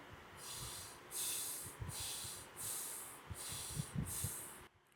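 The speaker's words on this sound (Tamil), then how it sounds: "நல்லா மூச்சை உள்ளெழுத்து மூச்சை வெளியே விடுங்க" Slow, deep breaths drawn in and let out during practice of the Uttarabodhi mudra for calm, roughly six airy, hissing breaths in an even rhythm, close and fairly soft, with no talking.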